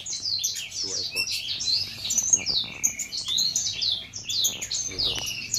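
Newly hatched white-rumped shama chicks of the Aceh strain give dense, continuous high-pitched chirps in a breeding nest, nearby with a steady, overlapping rhythm and no talking.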